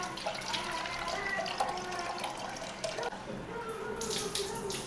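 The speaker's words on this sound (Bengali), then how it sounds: "আমি ধুয়ে ভালো করে টাওয়াল দিয়ে মুছে রেখে দিলাম।" A baby item is washed under a running tap in a sink, with steady splashing water flowing throughout and brief clinks of handling, close and fairly loud, no speech.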